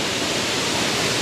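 Lauki waterfall near Mailung, a steady broadband roar of falling water, loud and unbroken throughout with no voices.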